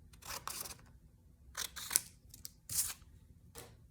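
Scissors snip through paper while cutting a small triangle for a gnome hat, a series of quick crisp cuts in irregular bursts, close and fairly quiet with no talking.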